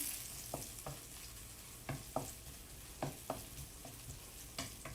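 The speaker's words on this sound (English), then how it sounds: "Just keep stirring so they don't burn." Garlic and ginger frying in a pan while being stirred, a soft low hiss broken by sharp spatula scrapes and taps at an uneven pace, quiet and close.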